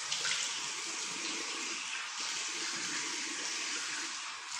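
Running tap water splashing steadily as a face is rinsed, a continuous close, broadband hiss of flowing water with no talking.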